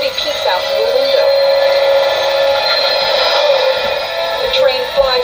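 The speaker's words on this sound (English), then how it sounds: "The wheels freeze, but the train keeps sliding down the track, sending up sparks." A toy train in an animated film skids down the track with its wheels locked and throwing sparks, giving a loud, sustained metallic screech that holds steady for several seconds before easing slightly near the end.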